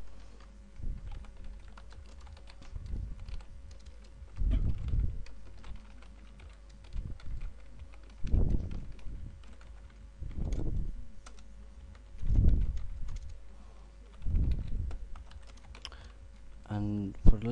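Typing of code on a computer keyboard, bursts of close key clicks in uneven rhythm with louder thumps at intervals, moderately faint over a quiet room, no voices.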